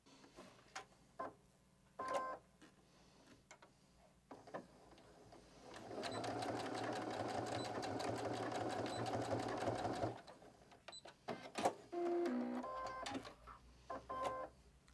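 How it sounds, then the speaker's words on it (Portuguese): A sewing machine stitches a strap holding a carabiner on a fabric organizer with pockets, with scattered handling clicks, then a steady four-second whirring run of stitches, then more soft clicks and short stitches, fairly quiet. "Pode fazer mais uma costurinha aqui para limitar o movimento dele."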